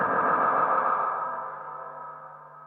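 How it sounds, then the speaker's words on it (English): A Boss DD-500 delay pedal with feedback turned up and no input, self-oscillating into a sustained, smeared tonal drone that slowly fades and thins out. "if I turn up the feedback,"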